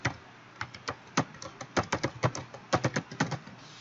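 Computer keyboard typing of notes clicks in irregular quick bursts of keystrokes, close and quiet, with no voices.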